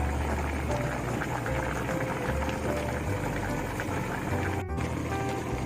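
Braised mackerel with water parsley bubbling in a pot, a steady, dense simmering boil that continues unbroken and fairly loud throughout.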